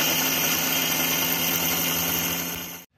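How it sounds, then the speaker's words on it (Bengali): A mixer grinder jar grinding puffed rice into powder gives a loud, steady, high-pitched motor whir that holds evenly for nearly three seconds before cutting off abruptly. "মিক্স জারের মধ্যে অল্প অল্প করে মুড়ি দিয়ে মুড়িটা গুঁড়ো করে নেব"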